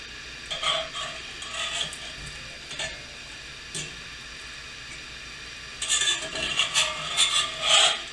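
Puffed-up treats sizzle and scrape in a cast iron pan as they are flipped, with soft frying hiss throughout and a louder burst of rasping scrapes near the end.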